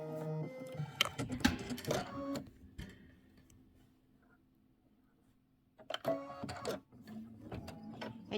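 An embroidery machine stitches out a red-and-white popsicle and rocket mini quilt block, giving dense rattling bursts of needle clatter that stop for a quiet spell, then start again close up.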